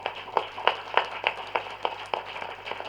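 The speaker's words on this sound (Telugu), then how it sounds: "పిరమిడ్ స్పిరిచువల్ సొసైటీ మూమెంట్కి ఒకసారి గట్టిగా క్లాప్స్ కొడదాం" A crowd at a Pyramid Spiritual Society anniversary gathering claps together in a steady rhythm, about ten loud, evenly spaced bursts of applause over three seconds with no talking.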